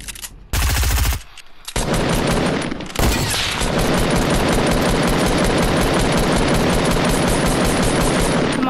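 Loud rapid gunfire fills a one-on-one match in the combat video game Combat, with a short burst, a brief pause, then a long sustained stream of close automatic shots.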